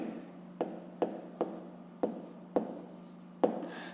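Pen or pencil writing by hand on paper during a fifth-grade math exercise, a series of short scratchy strokes with sharp taps at each new mark, close and fairly quiet over a steady low background hum.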